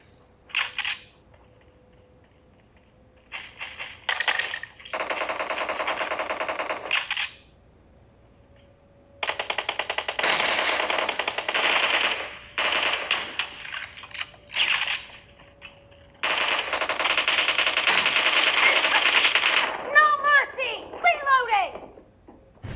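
PUBG Mobile gameplay on a Xiaomi Mi 11 phone, with bursts of game gunfire and action sound separated by short silences, and a person talking throughout.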